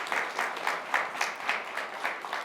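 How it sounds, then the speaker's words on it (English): An audience at a high school quiz show applauds the players, a short burst of steady clapping from a modest crowd with no voices over it. "Give these kids a round of applause."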